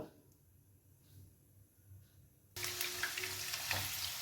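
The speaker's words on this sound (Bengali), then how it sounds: "আলুগুলো ততক্ষণে ভাজা হোক" A low, quiet hum gives way to a sudden loud sizzle as potatoes fry in hot oil, crackling steadily up close.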